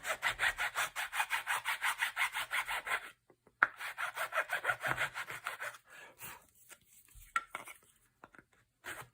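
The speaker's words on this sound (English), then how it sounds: "It's not a rasp, it's a metalwork file, but there we go." A metalwork file rasps across a wooden gun forend in quick, even back-and-forth strokes, pausing briefly, then resuming in looser, more irregular passes that fade out.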